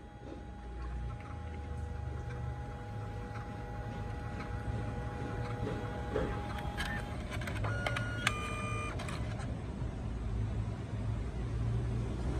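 A Canon Selphy CP1300 photo printer with a jammed ink tray that causes spots and streaks runs a print, giving a steady close mechanical hum with soft whirring and a few quick clicks and tones toward the end.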